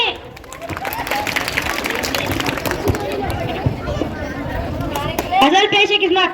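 Audience applauding at a comedy mushaira, dense clapping and crowd hubbub under a voice addressing the gathering, continuous and fairly loud throughout.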